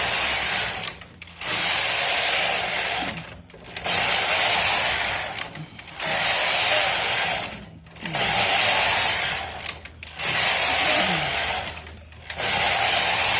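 A Silver Reed SK860 knitting machine carriage is pushed back and forth knitting stockinette rows, giving repeated rattling, whirring passes of about two seconds each, separated by short pauses as it reverses, close and loud.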